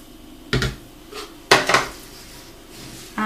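Spoon working oatmeal into a no-bake Oatella mixture in a bowl, a few close, sharp clinks and scrapes in short separate bursts with quiet gaps between them.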